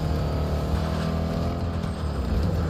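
A tank drives in Battlefield 2042, its engine a steady, loud, low rumble with a grinding drone that holds without a break throughout.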